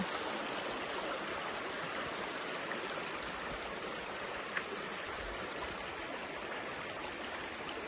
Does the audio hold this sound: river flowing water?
yes